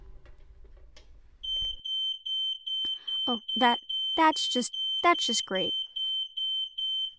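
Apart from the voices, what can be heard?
smoke alarm going off from burning chicken in the oven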